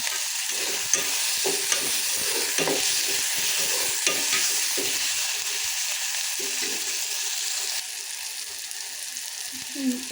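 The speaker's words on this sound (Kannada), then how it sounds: "ಎಣ್ಣೆಯಲ್ಲಿ ಬೇಯ್ತಾ ಇದೆ" Onion frying in oil in a pan, a steady close sizzle with light stirring scrapes, continuous and fairly loud, easing slightly toward the end.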